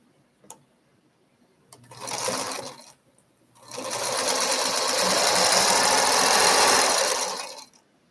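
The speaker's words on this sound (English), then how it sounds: "So when I aim for it when I'm sewing these diagonal strips." A sewing machine stitches diagonal fabric strips in two bursts, a short run followed by a longer steady whirring run, close and fairly quiet, with a couple of faint clicks before it starts.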